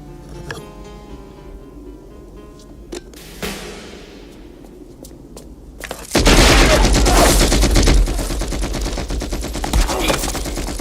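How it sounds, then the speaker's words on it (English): Gunfire in an action movie scene: scattered sharp shots and booms over a musical score at first, then a sudden loud, sustained burst of rapid fire and explosions filling the rest. "That was a gun."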